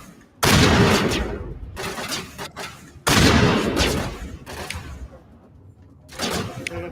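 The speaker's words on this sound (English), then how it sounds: "Don't worry, I'll just use my sniper." Sniper rifle fire in a video game: two loud, booming shots a few seconds apart, each followed by a long rolling echo, with a third fainter report near the end.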